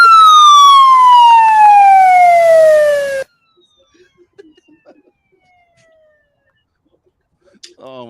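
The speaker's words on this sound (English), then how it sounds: "Can I hit this siren real quick?" A siren wails loudly at close range for about three seconds, its pitch sweeping steadily downward before cutting off abruptly, followed by near silence with faint scattered noises and a brief voice at the end.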